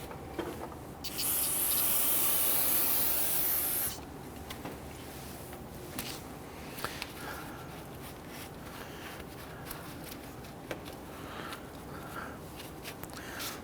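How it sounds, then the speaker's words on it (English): A loud hiss of aerosol solvent sprayed onto brake parts of a Kia Sorento lasts about three seconds, followed by quiet clicks and faint handling noises. "grab some spray solvent and spray this down to clean it up"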